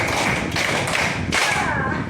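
Three or four firm hand claps spaced roughly half a second apart in a classroom counting game, close and steady over a busy room background.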